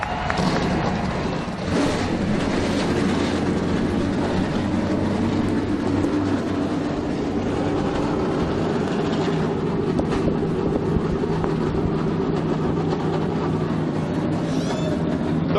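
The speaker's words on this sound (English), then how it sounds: "35 trucks have come to life now on the grid." Thirty-five NASCAR trucks idle together on the grid at Martinsville Speedway before the 2011 Kroger 250, a dense, continuous mechanical roar and low rumble that holds steady throughout without pause.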